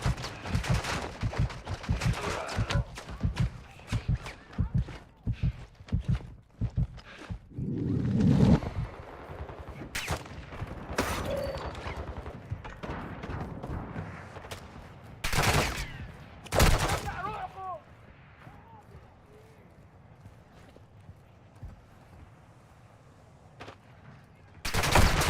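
Gunfire in the Call of Duty DMZ video game: repeated shots and bursts fill the first half, then scattered louder reports break out over a quieter, fading stretch.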